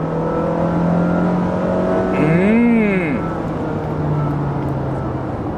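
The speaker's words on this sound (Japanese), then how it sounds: "後ろ車いるけど速度起こったんで S レンジでもう一回踏みます" Honda Freed petrol engine accelerating hard in S range, revs climbing and falling in a smooth rising-then-dipping sweep over steady road and cabin noise, heard from inside the car.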